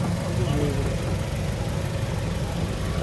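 A Toyota Hiace TRH 214 van engine idles steadily with a low, even rumble, voices murmuring faintly over it throughout.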